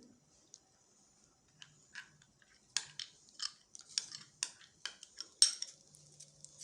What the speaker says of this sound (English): Stir continuously.